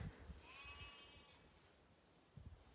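Sheep bleat loudly outdoors, with a clear drawn-out bleat early on over low background rumble, followed by quieter ambient noise and a soft thump near the end.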